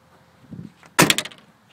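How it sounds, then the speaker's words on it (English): The rear door of a 1998 Ford Escort SE wagon is handled, with a soft click of the latch and then one solid, close thunk as the door shuts. Brief rattles follow, and no voices are heard. "Here's the driver's rear door."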